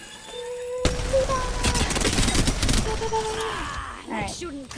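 A video game gun being tested fires a rapid burst of shots at targets, a loud sustained barrage lasting a few seconds with mechanical clatter and a voice speaking over it.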